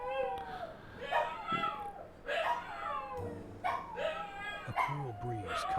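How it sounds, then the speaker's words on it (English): Dogs in a sci-fi noir adventure game yelp and whimper from another room, a run of high, wavering cries with a steady low hum underneath, moderately loud. "Those fucking dogs. They're howling in the other room."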